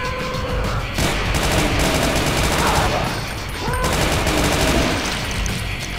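A single-shot weapon in Brutal Doom fires in loud, steady repeated bursts amid heavy ongoing combat noise, filling the whole stretch with little pause.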